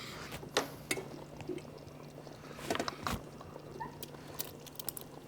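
Dry rigatoni tumbles into a pan of sauce for a Boursin rigatoni casserole, giving a few faint, scattered rattling bursts and soft clatters over a quiet background hum.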